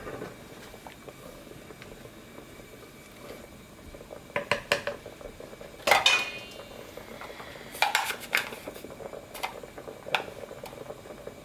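Red bean porridge bubbles in a pot while a utensil scrapes and clinks against the sides, giving sharp intermittent metallic knocks over a soft simmer, close and otherwise quiet.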